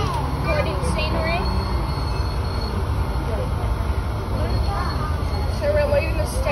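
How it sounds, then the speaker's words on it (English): Riding a train at the NSW Rail Museum, a constant loud rumble from the carriage with wheel squeals and rattles, while people talk over it. "So guys, we're on the train."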